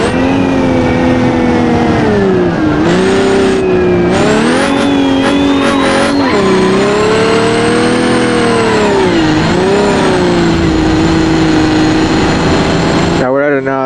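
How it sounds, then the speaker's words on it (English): A car driven hard on NOS, its engine rising and falling loudly through repeated revving surges and gear changes, with a dense roar close to the microphone. "If you accelerate too hard, it lifts the front wheels off the ground."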